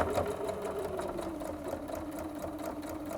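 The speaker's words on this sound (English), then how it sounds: "So just sew around here." A sewing machine runs steadily, stitching around curves in a piece of fabric, with a continuous close hum and a rapid needle rhythm and no talk.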